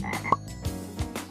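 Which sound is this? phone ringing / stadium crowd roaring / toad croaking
toad croaking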